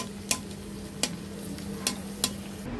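Syringe pitha, wheat-flour fritters, fry in oil with a low, steady sizzle, broken by four sharp clicks of a utensil against the pan; no voices.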